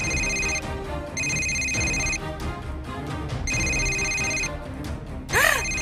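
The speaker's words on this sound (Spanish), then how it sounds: "¡El teléfono está sonando otra vez!" A telephone ringtone plays loudly in repeated bursts of bright electronic tones with short pauses between them, over steady background sound, ending in a rising-and-falling warbling sweep.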